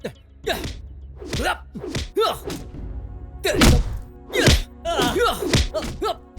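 Punches and blows land in a fight scene from a Hindi-dubbed South Indian action film: a string of sharp, heavy thuds and whacks at an irregular pace, close and punchy, with grunts and gasps between hits.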